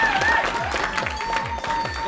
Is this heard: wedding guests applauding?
yes